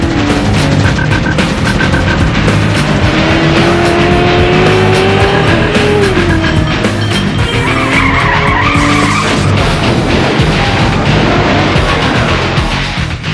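Racing engine and screeching tire skids from the driving video game Spy Hunter 2 roar continuously and loudly, with long squealing slides layered over the steady motor drone throughout.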